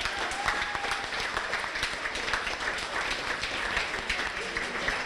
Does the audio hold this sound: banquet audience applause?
yes